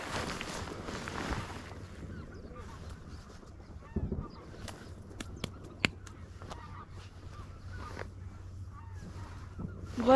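Geese honking in the distance over a flooded rice field in Arkansas, faint scattered calls above wind noise, with a few sharp knocks and thumps close by.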